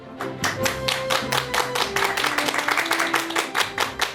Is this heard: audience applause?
yes